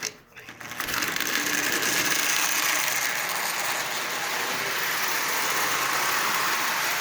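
A Marx 391 toy train locomotive pulling 18 tin lithographed cars runs steadily, giving off a loud continuous mechanical whirring and gear rattle from start to finish.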